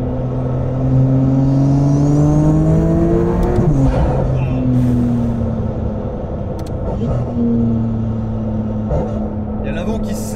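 A 950 hp RML GT Hypercar engine roars loud and close under hard acceleration, its rising drone climbing in pitch, dropping at a gear change, then climbing again, while someone talks over it.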